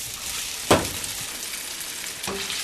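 Perogies frying in butter in a pan, a steady sizzle with two brief stirring scrapes, one sharp and one softer near the end, heard close with no talking.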